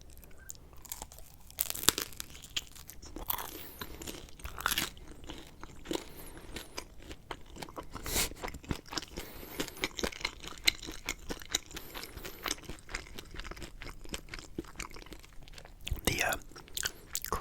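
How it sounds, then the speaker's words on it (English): Someone bites into and chews a crunchy Papa Murphy's pepperoni pizza with a crisp cheese crust, giving close, irregular crunches and crackles with soft mouth sounds throughout. "the cheese has a nice crust to it, so when you bite into it, you're almost getting like a crunchy texture"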